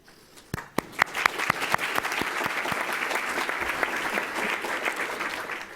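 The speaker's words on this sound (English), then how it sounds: "we can clap early" Audience applause at a Columbus Metropolitan Club forum on higher education, starting with a few sharp scattered claps and swelling into steady, dense clapping from a sizeable crowd that holds for several seconds.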